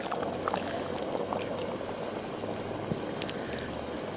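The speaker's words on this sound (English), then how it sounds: "add your 4 cups of water. Go ahead and pour that in." Water pours steadily into a cooking pot while a large batch of carne guisada is made, a continuous rushing, splashing wash with no talk.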